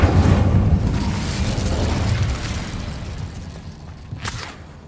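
The Incendio fire spell cast in the Hogwarts Legacy video game, a loud roaring burst of flame that whooshes and gradually fades over several seconds, with a brief crackle near the end and no talking.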